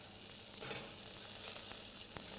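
Pieces of grilled meat sizzling on a rack as they are flipped, a soft steady hiss with a few faint clicks and taps, quiet and unvoiced.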